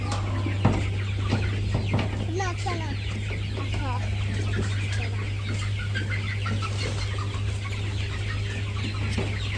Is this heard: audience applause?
no